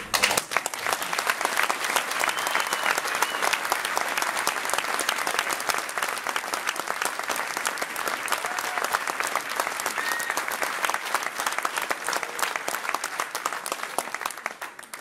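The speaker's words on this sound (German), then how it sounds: "Darf ich an der Stelle um einen Applaus für unseren Dolmetscher bitten?" A hall audience applauds an interpreter at an event in Berlin, with dense, steady clapping that runs loud and continuous for the whole stretch without easing off.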